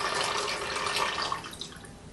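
ILFORD stop bath is poured into a Lab-Box film developing tank, a steady close splashing and trickling of liquid that gradually thins and fades over two seconds, with no talking.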